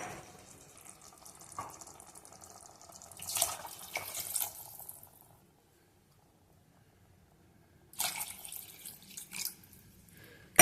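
Water is poured into rice in a pressure cooker for chicken biryani, heard as two short splashing pours a few seconds apart, close but soft, separated by near silence.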